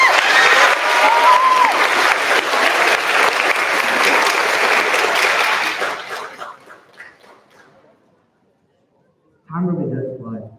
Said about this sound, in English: Give them a round of applause for paving the path into the next year beginning